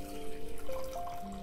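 Plain water poured from a container into a bowl of natural pigment in a home kitchen while making ink, a steady close trickle with slight gurgling lasting about a second and a half, no talking.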